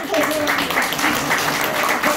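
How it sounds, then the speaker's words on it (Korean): An audience at a Korean political talk event applauds in steady, dense clapping that fills the whole short stretch. "박수 한 번 보내주시고"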